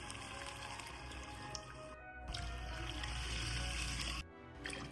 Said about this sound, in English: I add in the water.